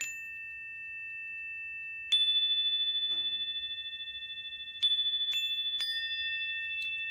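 Clear, sustained chime tones ring out, struck a few times in succession, each note lingering and slowly fading in a quiet setting.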